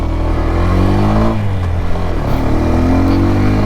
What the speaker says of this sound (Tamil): இதுதாங்க வண்டியோட எக்ஸாஸ்ட் நோட்.